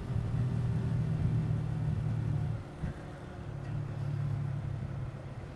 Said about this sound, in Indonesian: Hanya kendaraan truk